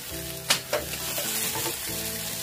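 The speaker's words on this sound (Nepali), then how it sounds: "यो मसला राखिसकेपछि पनि एकैछिन हामीले भुट्छौँ" Bitter gourd and potato sizzling with masala in a hot pan, a continuous close fry broken by a couple of sharp stirring knocks near the start.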